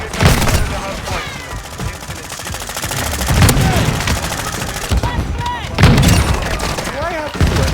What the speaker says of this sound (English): Taking effective fire! I'm taking fire!